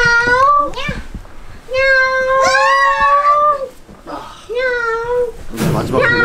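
A person imitates a cat's meow several times, with long, rising and falling, drawn-out calls in a lively indoor setting, and other voices mixed in.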